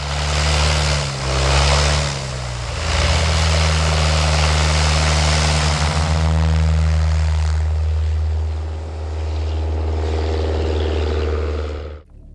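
A single-engine propeller airplane idling after landing in snow, a loud, steady drone with a strong low hum and shifting tone as it turns, running continuously for about twelve seconds before cutting off.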